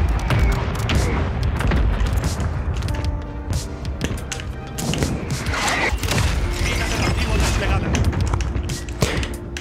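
Gunfire and booming blasts from Call of Duty: Warzone 3.0 Season 2 on Xbox One fill the mix in dense bursts, with a player talking excitedly over the shooting.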